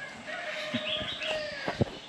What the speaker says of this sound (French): Regardez les coqs qui chantent le bon matin